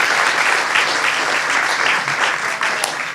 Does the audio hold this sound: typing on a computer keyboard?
no